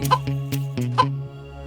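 A hen in a children's fairy-tale story clucking as it lays a golden egg, with a short run of close, rhythmic clucks and squawks over a steady tonal hum.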